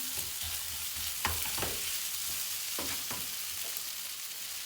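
Börek filling stirred with spices in a hot pan just off the flame, a steady broadband sizzle with several sharp scraping strokes of the spoon scattered through, close and alone.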